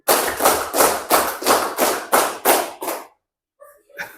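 A group claps hands in a steady, even run of about eight loud claps at a brisk pace, then stops. A voice follows briefly near the end.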